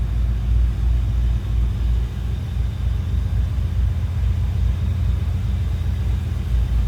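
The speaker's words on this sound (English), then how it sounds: "Car starts easy, runs good." A 1967 AMC Rambler American Rogue convertible idling steadily, a loud, deep, even engine rumble with a faint rhythmic pulse, heard close and alone with no talk.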